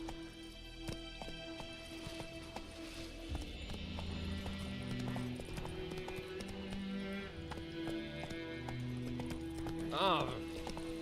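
Hooves of the horse Roach in the video game The Witcher 3, a steady clip-clop under a music score with an occasional whinny, loudest near the end.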